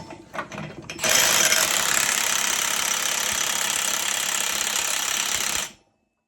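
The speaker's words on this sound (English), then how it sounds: "I've got a big socket for that and a big rattle gun, so we're just going to send it." A big impact wrench with a 54 mm socket hammers on the rear engine nut of a Mazda RX-8, a loud, continuous, rapid rattle for about five seconds after brief handling noises, then stopping abruptly.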